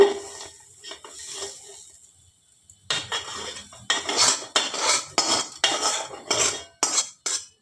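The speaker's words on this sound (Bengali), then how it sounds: "এবারে এর মধ্যে চালগুলো ঢেলে দেব" Uncooked rice for a vegetarian khichuri with peas and nuts is poured into a cooking pot. After a quiet start, it makes several bursts of dry rattling and clattering that come close together, with no talking.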